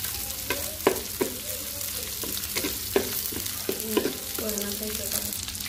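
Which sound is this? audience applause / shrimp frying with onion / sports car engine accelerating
shrimp frying with onion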